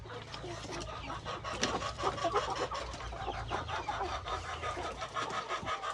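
Mardi crossbreed chickens clucking in a poultry house with battery cages, a busy overlapping flock chatter at moderate distance under a faint engine rumble, with a brief voice at times.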